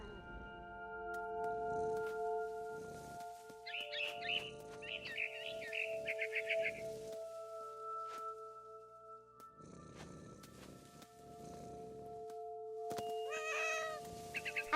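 A cat in the video game What Remains of Edith Finch lets out two bursts of short, high meows, several in quick succession, over a steady drone of game music and ambience.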